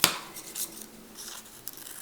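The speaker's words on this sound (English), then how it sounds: "I'm going to take my scissors and do smaller cuts and just cut out bigger chunks of paper like that" Scissors cutting paper at close range: a sharp snip at the start followed by several softer cuts and crisp paper rustles at irregular intervals.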